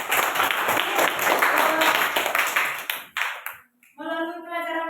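A classroom of students claps for a classmate, a burst of dense hand clapping that fades out after about three seconds, followed by a brief quiet and then a voice speaking.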